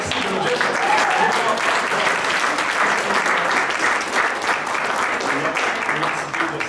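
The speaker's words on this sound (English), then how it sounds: "Can you give a round of applause for someone?" A live audience gives a sustained round of applause for a volunteer brought up during an inspirational magic show at a retreat, a dense steady wash of clapping that fills the whole stretch and tapers slightly at the end.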